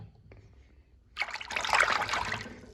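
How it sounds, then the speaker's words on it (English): Water and a cleaning solution are poured into a container to soak freshly gathered backyard chicken eggs, a close trickling, splashing pour that starts suddenly and runs steadily for over a second. "Pour a little bit in."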